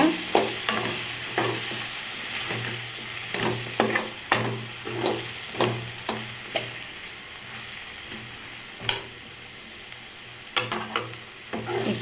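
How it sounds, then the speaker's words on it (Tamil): A spoon repeatedly scrapes and stirs a thick masala of turmeric and spice powders in a pan, sharp clinks and scrapes over a soft, steady sizzle. "பண்ணி நல்லா வதக்கிக்கோங்க"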